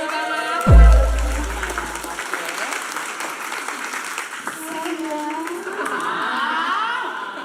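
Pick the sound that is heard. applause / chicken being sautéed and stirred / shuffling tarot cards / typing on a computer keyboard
applause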